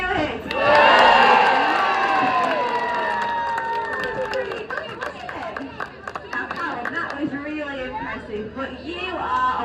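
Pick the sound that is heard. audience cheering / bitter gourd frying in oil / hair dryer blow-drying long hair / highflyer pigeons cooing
audience cheering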